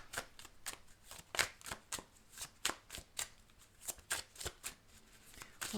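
Tarot cards riffle and slap in a fast, steady series of crisp shuffling snaps, close and fairly quiet, with no voice over them.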